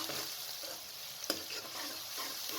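Onion, ginger and garlic sizzling in hot oil in a wok while being stirred, a soft steady crackle with a single sharp scrape of the spoon, close but quiet and without talk.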